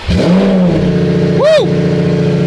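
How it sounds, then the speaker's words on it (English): A Lamborghini engine fires up from cold, loud and close, with a steady low drone and one quick rising-and-falling rev flare midway. "All right, cold start in my Lambo."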